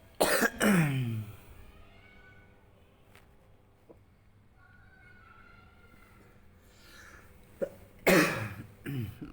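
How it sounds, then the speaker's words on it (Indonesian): A person coughs in a sharp burst at the start and again near the end, close and loud, with a quiet room between the bouts. "Lagi batuk."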